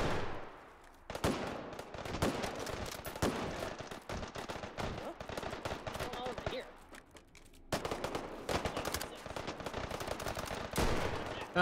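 Rapid gunfire bursts in the VR shooter Hot Dogs, Horseshoes & Hand Grenades come in repeated volleys with brief pauses between them, loud and close.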